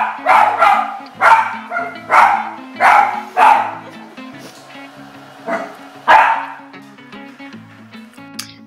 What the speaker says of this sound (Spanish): cada vez que la encendemos se vuelve loca y empieza a ladrar